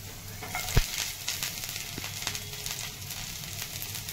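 Onion, garlic and ginger frying in oil for Manchurian, a continuous close sizzle broken by a sharp utensil knock near the start and a few lighter taps, with no one speaking.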